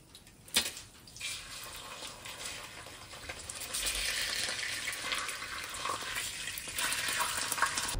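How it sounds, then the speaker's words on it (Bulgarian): Marinated fish frying in a pan, a steady crackling sizzle with bright hissing that grows louder and denser after a few seconds, with an early clatter and occasional spits; no one speaks. "И сега, приятели, започваме да пържим рибката, която предварително съм мариновала."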